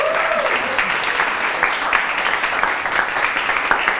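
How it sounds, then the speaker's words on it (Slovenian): A studio audience at a Slovenian Sunday variety show breaks into sustained applause, a dense, steady wash of clapping that carries for several seconds. "Damo aplavz"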